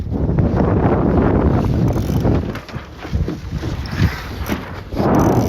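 A wind gust hits a sailing dinghy, rising into a loud, close rush of wind buffeting the microphone, with water swishing and hull noise under it that eases briefly before swelling again.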